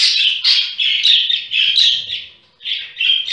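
A budgerigar chick, well grown but still begging its father for food, gives a rapid run of shrill, squawking calls in repeated bursts, close and loud, with a short pause before the calling resumes.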